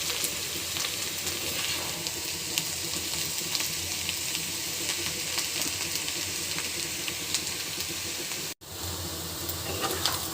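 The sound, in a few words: potatoes frying for soft aloo bhaji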